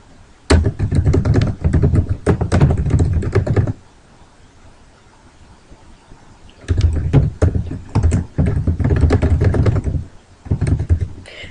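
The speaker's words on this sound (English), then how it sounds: "I hit the Enter key just to be able to add a bullet" Typing on a computer keyboard to build a bulleted list in Microsoft Word, with Enter presses between lines: two dense runs of close, crisp key taps separated by a few seconds of quiet.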